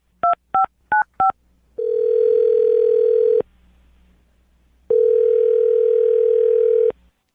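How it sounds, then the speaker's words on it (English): A telephone being dialed, four quick keypad tones, then two long, steady ringback tones with a pause between them, clear and close with no talking. "I'll dial her phone number right now"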